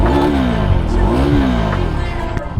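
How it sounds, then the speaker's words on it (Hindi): Exhaust of a KTM 390 Duke motorcycle in track mode, revving loud and close with rising and falling engine pitch sweeps over a steady rumble. "एग्जॉस्ट हम चेक कर"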